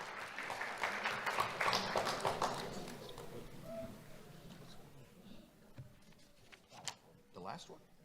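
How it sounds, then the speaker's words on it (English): A round of applause at a school awards event for a third-grade award winner, a broad wash of clapping that swells early, then thins and trails off with scattered claps near the end. "Let's have a round of applause for Angel Perez Mateo."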